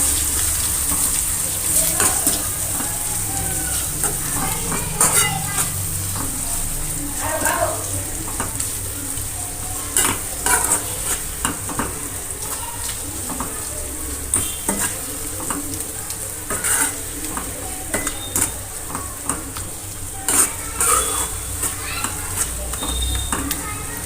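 Mashed brinjal bharta with red chilli and coriander-cumin powder sizzles in a pan while being stirred, giving a constant frying crackle broken by irregular scrapes and taps of the spoon.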